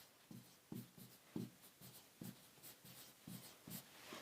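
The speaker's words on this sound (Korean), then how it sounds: "밑에 거는 조금 더 또박또박 써볼게요." A pen writes by hand on paper, a quiet close series of short scratching strokes in an irregular rhythm with no talk.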